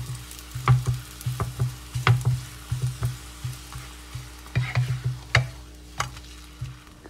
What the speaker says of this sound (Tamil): இப்போது சப்பாத்தியை டோஸ்ட் பண்ணிக்கலாம். ஒரு சைடு குக் ஆனதும் ஃப்ளிப் பண்ணி இன்னொரு சைடும் டோஸ்ட் பண்ணிக்கலாம்.